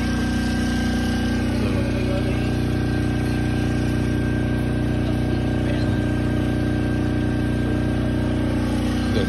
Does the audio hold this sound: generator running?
yes